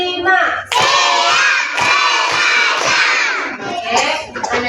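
Group of schoolchildren in an Indonesian classroom loudly chanting in unison with rhythmic clapping during a counting clap routine, a dense crowd of young voices sustained for several seconds before fading.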